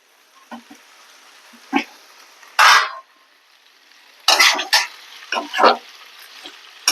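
Cluster bean pieces drop into onion tempering in a hot pan, giving bursts of loud crackling sizzle and scraping stirs that come in uneven clusters over quieter stretches, close to the listener.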